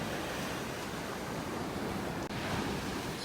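Ocean waves surging on a beach in North Naples, Florida in bad weather, a continuous loud roar of surf mixed with heavy wind buffeting the microphone, no talk.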